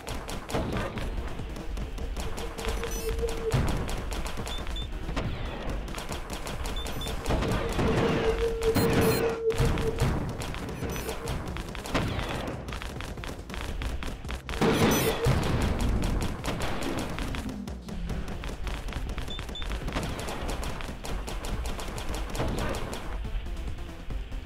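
Rapid bursts of gunfire fill the action game Industrial Complex, dense volleys and thuds repeating loudly throughout with brief lulls, under a busy, noisy mix of combat effects.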